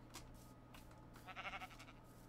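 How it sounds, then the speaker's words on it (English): Sheep bleating in a Minecraft jungle world, a short wavering bleat in the middle over a steady low game background hum. "There's some sheep."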